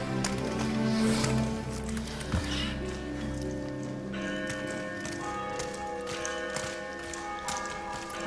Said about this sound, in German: Was bedeuten diese Glocken?